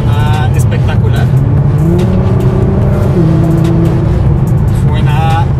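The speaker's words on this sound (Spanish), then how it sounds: "el motor suena espectacular" Nissan GT-R with over 1000 hp, its engine roaring loud and steady from inside the cabin with a deep rumble and rising revs, while people talk over it.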